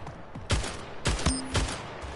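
A shotgun firing in the arena shooter Splitgate, several sharp blasts spaced roughly half a second apart, loud and close, with faint game effects in between.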